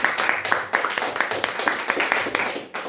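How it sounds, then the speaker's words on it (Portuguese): Church congregation clapping in unison during an evening service, a brisk, steady rhythmic beat of many hands close by, continuous throughout. "com as palmas que glorificam o nome de Jesus"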